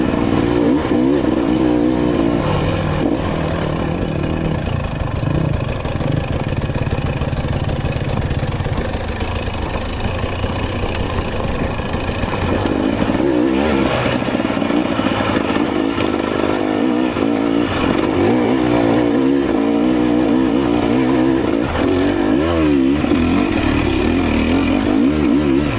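A 2026 TE300 two-stroke dirt bike runs steadily on a ride, its engine loud and close with continuous revving and throttle changes throughout.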